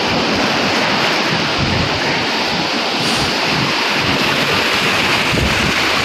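Steady roar of high-tide typhoon sea waves breaking and washing over a seawall in Navotas, Manila Bay, loud and continuous, with wind buffeting the microphone throughout.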